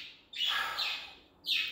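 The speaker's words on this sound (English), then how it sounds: "Oh my goodness, the parakeets." Parakeets chirp in two bright, high bursts indoors, the first a longer twittering call and the second a short sharp chirp after a brief pause, fairly close and clear with no talk.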